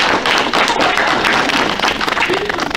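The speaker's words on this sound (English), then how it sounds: "So round of applause to these wonderful ladies." Audience applause at a comic convention, steady dense clapping at close range and fairly loud for the whole stretch, with no speech over it.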